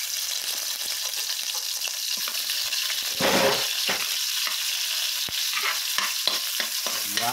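Garlic and onion fry in a pan with a steady broadband sizzle, broken by scraping stirs and a few sharp clinks of a utensil, with no talking.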